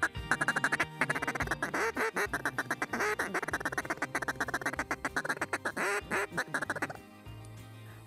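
A hand-blown duck call imitates a mallard's feeding chuckle in a fast, rhythmic run of short, clipped pulses, close and clear, before it stops abruptly near the end.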